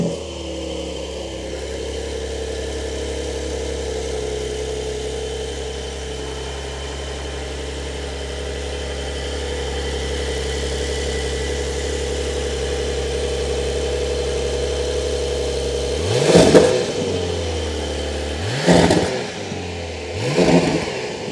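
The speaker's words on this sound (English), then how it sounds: "We also have a cold start video that I will go ahead and put in now." A 2023 Porsche 911 GTS engine cold-starts into a steady, rumbling idle, followed near the end by three sharp, loud revs that flare up and fall away.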